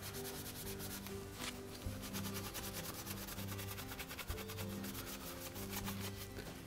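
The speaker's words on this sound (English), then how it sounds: "with a piece of scotch pad, we'll just remove any of the soap and crud buildup on it." A scotch pad scrubs soap and crud buildup off the spin tube of a Whirlpool washer, making close, continuous rhythmic rubbing strokes with a gritty, sanding-like texture.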